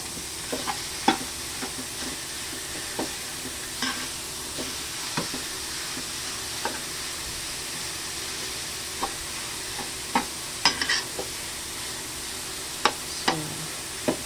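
Drained ground pork sizzles steadily in a pan while a utensil scrapes and stirs it, giving sharp periodic knocks against the metal over a constant frying hiss, close and without speech.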